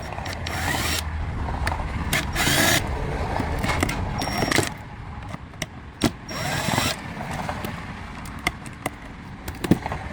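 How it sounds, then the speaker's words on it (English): Screws being removed from the cover of a QSC CP8 speaker, a close series of whirring driver bursts separated by clicks and handling knocks, with no talk. "we have all of these screws here to remove"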